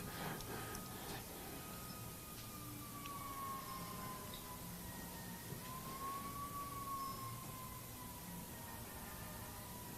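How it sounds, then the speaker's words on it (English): A wailing emergency vehicle siren rises and falls steadily over ongoing traffic rumble, sounding fairly distant and continuous throughout. "These sirens are giving emphasis to whatever I'm saying."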